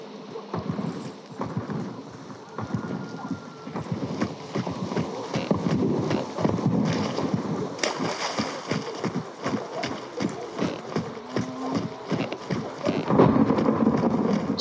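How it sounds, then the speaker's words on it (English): Rhythmic hoofbeats of a galloping horse in a video game thud along steadily, with a brief whinny and faint wind, while a few voices speak in the background. "Horse right here."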